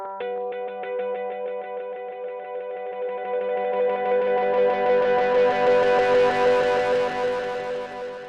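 Clean electric guitar notes pass through an echo delay set to 16th notes, so each picked note repeats rapidly and the repeats pile up into a bright, smeared, swelling wash that keeps sustaining after the playing.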